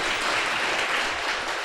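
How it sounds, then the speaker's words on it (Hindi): An audience at a spiritual talk on the Ramayana claps together in a steady, dense burst of applause that fills the whole stretch without any voice over it. "सभी हाथ उठाइए, उठा लेंगे और ताली बजा लीजिए"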